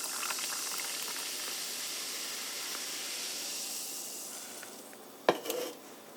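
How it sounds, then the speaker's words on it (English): Coca Cola Cherry poured from a can into a glass gives a steady hiss of carbonated fizz, with a short clink and splash near the end. "you open up this can of Coca Cola Cherry and you pour it into this glass"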